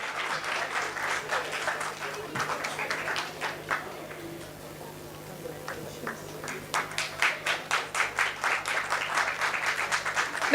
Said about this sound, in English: please give a big round of applause to all our students